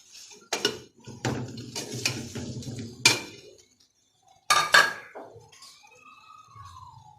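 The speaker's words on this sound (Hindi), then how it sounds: "वो आधी प्याज हम अब इसमें ऐड करेंगे" Onion going into a pot of beef with bitter gourd over low heat: several close metallic clatters and scrapes of a spoon on the pot in two bursts, separated by a short quiet gap.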